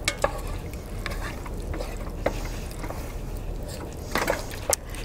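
Spaghetti noodles stirred in a pot, heard as scattered light knocks and scrapes of a utensil over a low continuous rumble, with a cluster of clicks toward the end.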